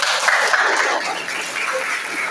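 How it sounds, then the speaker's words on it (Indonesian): Students and staff at a junior high school student council election debate give a burst of loud, sustained applause, close and dense throughout, with the sound thinning slightly toward the end. "Tepuk tangan."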